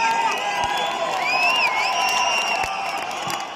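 A lively crowd at an anniversary show cheers and whoops in a steady, dense wash, with whistle-like tones rising above the noise throughout.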